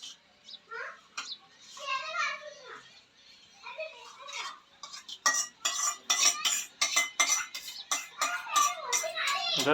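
A spoon stirs curd into raita in a bowl, making a quick run of sharp metallic clinks and scrapes in the second half. Voices, including a child's, talk before the stirring begins.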